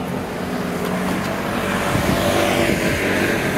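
Steady road traffic on a London street near Harrington Square Garden, with buses and cars rumbling past close by in a continuous, fairly loud wash of engine noise and tyre roar.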